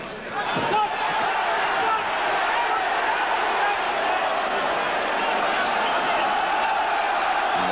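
A boxing crowd roars steadily throughout a professional bout between Lloyd Honeyghan and Gianfranco Rosi, a loud, dense arena noise that swells slightly near the start and then holds at a constant level with no clear speech above it.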